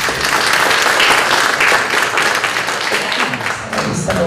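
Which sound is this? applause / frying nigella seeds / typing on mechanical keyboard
applause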